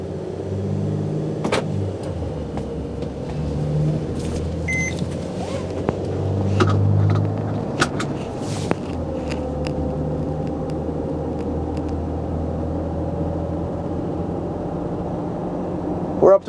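A 2016 Mercedes-Benz Sprinter van rolls slowly through a parking lot with a low, quiet cabin hum and road rumble, scattered with small clicks and ticks and no talk.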